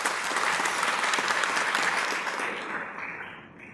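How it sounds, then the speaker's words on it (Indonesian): Seminar audience breaks into sustained applause, a dense roar of many hands clapping that holds steady and then fades away toward the end, with no talking over it. "Tepuk tangan untuk Kang Randy Saputra ya."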